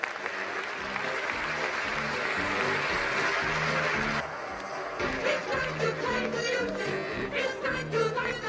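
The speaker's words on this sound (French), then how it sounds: "applaudis bien fort" Audience applause greets an act at a pet show, a steady wash of clapping that fills the first half, then thins into scattered claps with a brief accent.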